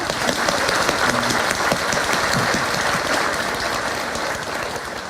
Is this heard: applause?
yes